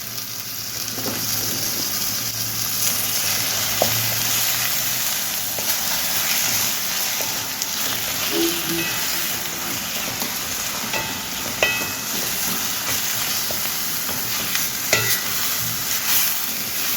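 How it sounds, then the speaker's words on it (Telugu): Ground onion paste with ginger and garlic fries in a pan, producing a steady, loud hiss and sizzle with occasional light clicks and scrapes from stirring. "దీన్ని వేసుకొని వేపుకుందాము శుభ్రంగా పచ్చివాసన పోయే వరకు వేగాలి"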